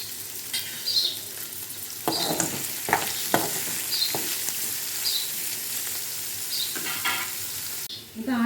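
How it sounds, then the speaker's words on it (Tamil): Onion and ginger sauté with a pinch of salt in a hot pan for malli chutney, a steady close sizzle broken by scraping stirs and occasional spoon taps against the metal. "அடுத்து இஞ்சி ஆட் பண்ணிவிட்டு கொஞ்சமாக சால்ட் சேர்த்து நல்லா வதக்கிடுங்க."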